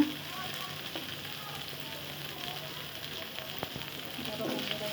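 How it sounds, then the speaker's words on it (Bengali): A spiced mixture with turmeric powder frying and being stirred in a pan, a steady close sizzle with faint scraping, moderately quiet and without talk. "এখন হলুদের গুঁড়া দিয়ে আবার নেড়ে চেড়ে নেওয়া হচ্ছে।"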